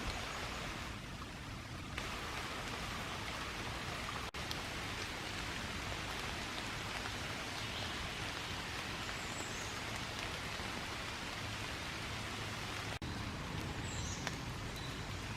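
Steady rain falls through a park on a dark, foggy morning, a dense even hiss of drops on leaves and ground that holds constant throughout, with no voices.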